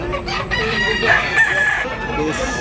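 Roosters crow loudly and close, one long cock-a-doodle-doo rising over steady clucking from many chickens in a busy yard.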